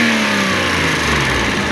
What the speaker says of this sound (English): can you try and rev it a little bit more than what we did